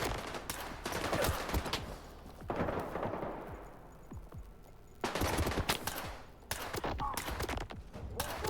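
Gunfire in the STALKER 2 video game: several rapid bursts of shots crackle at moderate distance, separated by short pauses, forming an irregular rhythm of sharp volleys with no talk over them.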